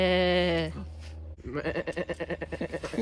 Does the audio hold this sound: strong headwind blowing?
no